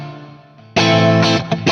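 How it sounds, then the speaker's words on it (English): Distorted electric guitar played through a HeadRush unit with cathedral reverb, a sustained ringing chord fading before a loud, bright strummed chord with a long washy tail. "it's the sound of my verb"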